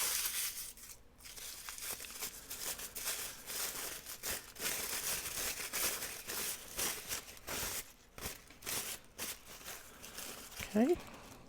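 Tissue paper is crumpled by hand into a wrinkled wad, a steady close crackling and rustling that carries on for several seconds with short pauses.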